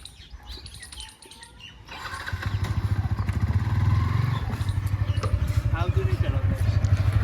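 A motorcycle engine starts and settles into a steady, throbbing idle close by, while a person speaks over it.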